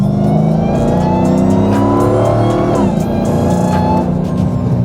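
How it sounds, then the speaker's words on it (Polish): A loud supercharged Dodge Challenger engine revs hard and close with a whining rise in pitch, briefly drops as it shifts, then climbs again. "będę dodał gazu."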